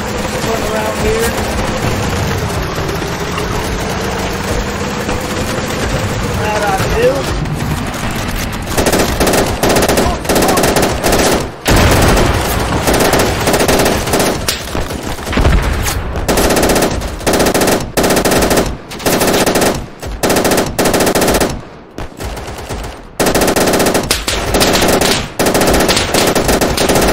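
Belt-fed machine gun in the video game Easy Red 2 firing long, loud sustained bursts separated by short pauses, after a stretch of rumbling ambient noise and movement at the start.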